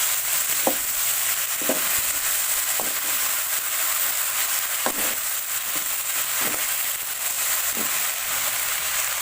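Okra sizzles steadily in a hot pan while being stirred, a continuous close frying hiss broken by about eight soft scraping clicks from the stirring.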